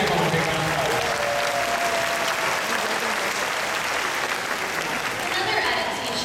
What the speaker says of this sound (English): Let's give Evelyn a big round of applause.